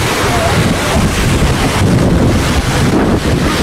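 Heavy typhoon waves surge and crash at Ubay, Bohol, under a roaring wind buffeting the microphone, a dense, loud, continuous wash of noise.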